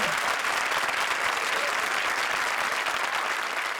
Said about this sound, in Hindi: आपकी एक्स्ट्रा इनिंग्स के लिए जोरदार तालियां